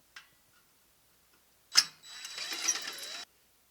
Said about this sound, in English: So, all right, let's get these screws out of here.